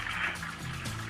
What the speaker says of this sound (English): you can hear the toilet flushing in the background